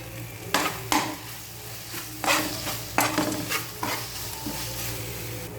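Food sautéing with chili powder in a pan, a constant sizzle broken by several distinct spoon scrapes and knocks against the metal as it is stirred; no talking.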